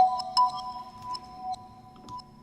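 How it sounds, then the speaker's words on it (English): A vibraphone virtual instrument plugin plays a soft lofi hip hop part, with sustained metallic tones and a few gentle struck notes ringing over a quiet, hazy background. "Next, I have a vibraphone,"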